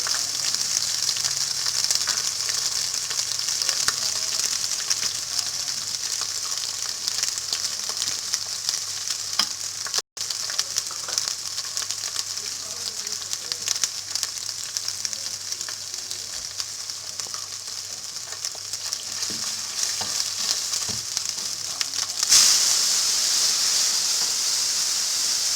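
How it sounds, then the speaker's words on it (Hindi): Garlic and ginger fry with spices in a pan for lentil dal, a constant close sizzle lasting throughout, with brief stirring scrapes and no talking. "लहसुन अदरक को थोड़ी देर हम भूनेंगे ताकि इसकी स्मेल चली जाए"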